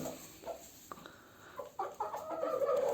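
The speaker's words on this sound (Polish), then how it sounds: "O, jaka ładna kurka znosi jajko." A hen clucking while laying an egg in a backyard poultry run: short, scattered clucks and squawks, fairly close, that grow busier and louder toward the end, with no talk.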